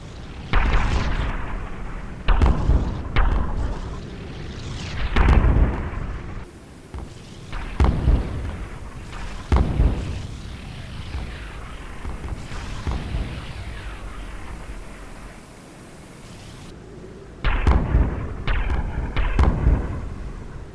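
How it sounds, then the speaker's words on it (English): Distant naval guns from destroyers in the Silent Hunter 4 game, a Java Sea battle, thud in repeated heavy booms with rumbling tails, clustered in bursts over a low steady background. "Enemy destroyers firing from the distance as well."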